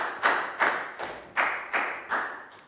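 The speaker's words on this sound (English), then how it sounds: "a big round of applause for Pak Boom" Seven sharp, evenly spaced claps from a small group, close and crisp, each with a short decay.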